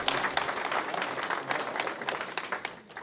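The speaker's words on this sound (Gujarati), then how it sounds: "તો આ બધી બહેનો માટે જોરદાર તાળીઓ પાડી દઈશ" Sustained applause from a crowd at a Tulsi Vivah wedding ceremony, honoring the volunteer women: a dense, steady patter of many hands clapping nearby, loud throughout and tapering slightly at the end, with faint voices mixed in.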